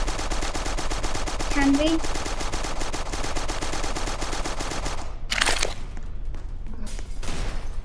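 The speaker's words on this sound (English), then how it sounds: "The drum gun is actually really good." Rapid continuous automatic fire from a drum gun in the Roblox shooter Strucid, a loud sustained burst that cuts off at about five seconds, followed by a few scattered shots, with a player speaking briefly.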